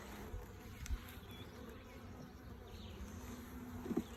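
Honeybees from an Italian colony buzzing softly during a hive inspection: a low, continuous drone close by at quiet volume, with a few faint bumps and a louder buzz passing near the end.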